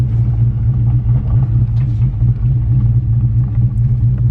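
A drag car on drag radials gives a loud, deep, continuous engine rumble heard from inside the car, steady and throbbing with no voices.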